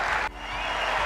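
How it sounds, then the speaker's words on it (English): A tennis crowd at the US Open applauds champion Bianca Andreescu, a brief dense wash of clapping with a short dip before it swells again. "Andreescu taking her applause"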